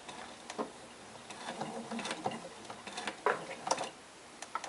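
A sewing machine backstitching a French seam at a quarter-inch edge on fabric for a tote bag: quick, close mechanical ticking in short irregular bursts, needle taps clattering with brief pauses.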